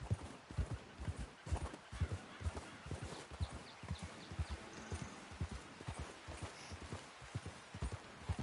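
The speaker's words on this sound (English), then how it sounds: "I think they want me to go on my horse" Steady clip-clop of horse hooves in a quick, regular walking rhythm in Red Dead Redemption 2, fairly close, with a faint game background hum.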